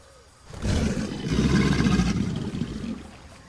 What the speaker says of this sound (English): I wish these dinos would stop making so much gosh darn noise up there.